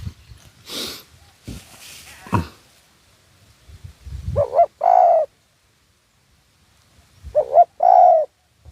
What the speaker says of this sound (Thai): ตอนนี้ยินเสียงเจ้าสังวานหน่อยค่อยหยอดอยู่ครับผม